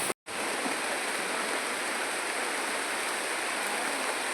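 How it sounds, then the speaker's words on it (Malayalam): Water rushing loudly through channels in a rural Kerala setting after heavy rain, a close, continuous roar of broadband flow after a brief cut at the start. "അപ്പോൾ ഇതിലൂടെയൊക്കെ വെള്ളം ഒഴുകുന്നതിൻ്റെയാണ് കേട്ടോ"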